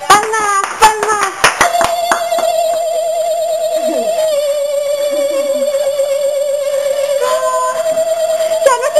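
A burst of rhythmic hand clapping from a group rings out loud and close at the start, then fades to scattered claps beneath a sustained tone and voices during a game of pool at home.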